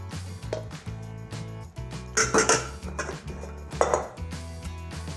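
Mashed potatoes being scraped out of a pot, heard as repeated clinks and scrapes of a utensil against metal in short bursts, with several sharper strikes, over a steady low hum in the background.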